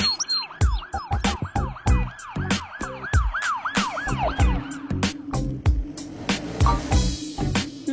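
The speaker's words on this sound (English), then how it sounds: "Ambulance." A toy ambulance siren wails in a fast, repeating up-and-down sweep, close and fairly loud, overlaid with clicks and clattering from toy vehicles being handled.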